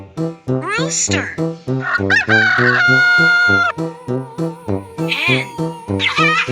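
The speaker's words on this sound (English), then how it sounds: "Rooster!" A farm animal toy plays an electronic rooster crow, a loud, close cock-a-doodle-doo repeated in several bursts with a strong buzzy tone and a brief squawk at the start.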